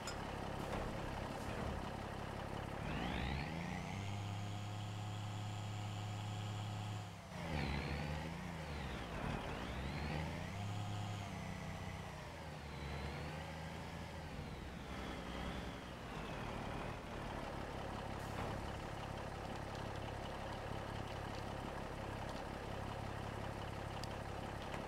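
International 4786 tractor engine in Farming Simulator 25, a steady loud diesel drone that rises in pitch as it revs up, drops, then revs again several times, running continuously throughout.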